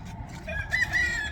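Chickens in a coop cluck over a low steady rumble of wind, and a rooster's crow rises near the end. The calls are moderately close and blend into the windy background.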